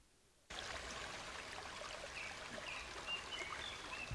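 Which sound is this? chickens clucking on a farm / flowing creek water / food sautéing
flowing creek water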